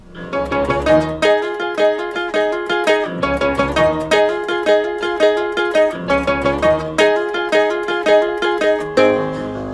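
A ukulele plays a music break, bright plucked chords in a bouncy repeating phrase, loud and close, with no voice.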